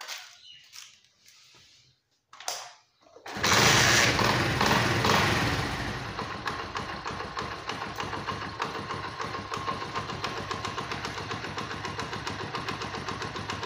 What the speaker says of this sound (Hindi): तो अभी बाइक को करते हैं स्टार्ट